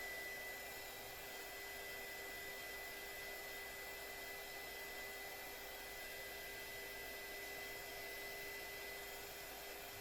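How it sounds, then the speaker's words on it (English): A heat gun blows steadily to dry acrylic paint, a constant airy whoosh with a faint whine that stays at an even low level from start to finish and is heard alone without talk. "Sometimes I'll take heat, not a heat press, a heat gun. And I'll help make it dry faster."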